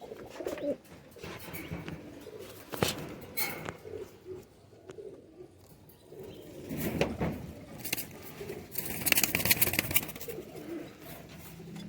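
White high-flyer pigeons coo in soft, low repeated calls amid a busy outdoor background, with occasional louder bursts of fluttering and movement, no voices.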